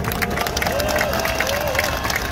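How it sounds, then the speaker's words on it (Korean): A political rally crowd applauding and cheering, a dense, loud, continuous roar of clapping and voices that stays constant throughout. "여러분 격려의 박수 부탁드립니다."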